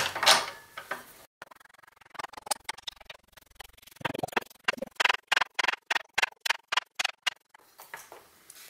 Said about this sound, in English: Now the retaining compound's been put on and we just tighten up the press tool again